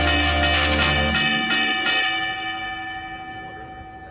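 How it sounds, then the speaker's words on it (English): Boxing ring bell in an anime fight, several rapid metallic clangs struck in quick succession that then ring out and fade over a few seconds. "Ring the bell now!"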